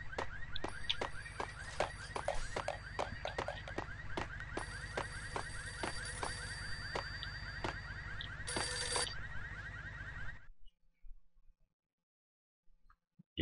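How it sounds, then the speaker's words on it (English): Telephone ringing inside a Max Payne level, a steady electronic ring repeating in a fast rhythm for about ten seconds over game ambience and gunfire-like clicks, fairly close, then cutting to near silence. "That's a phone. Gotta find the phone."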